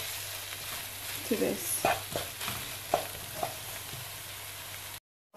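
Chicken curry sizzles steadily in a pan after more oil is added, with a few sharp crackles and stirring scrapes over the frying hiss, a brief voice in the middle, then it cuts to silence.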